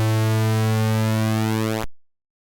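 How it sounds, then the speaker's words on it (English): A steady buzzy pulse-wave synthesizer tone with modulated pulse width, rich in harmonics, with a shifting sweep through its upper overtones, sustained about two seconds then cutting off abruptly. "against the sound of a pulse wave that is being modulated."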